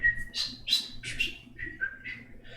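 A little bird on a porch near swamps chirps away in a quick series of bright, clear tweets and short trills, close and distinct against quiet background.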